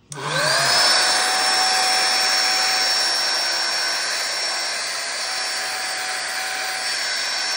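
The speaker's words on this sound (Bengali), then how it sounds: "ইলেকট্রিক এয়ার পাম্প এটির নাম।" A mini electric air pump blower switches on and spins up quickly, then holds a loud, steady high-pitched whine with a rushing airflow hiss, no voices.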